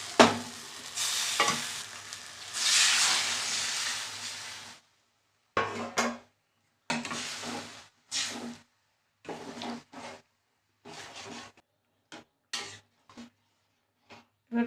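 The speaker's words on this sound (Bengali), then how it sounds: "এবার আমি জল দিয়ে দেবো" Water poured into a pan of sizzling taro curry, a loud steady hiss and bubbling sizzle at first, then stopping and starting in short stirring bursts with quiet gaps between, close and without talk.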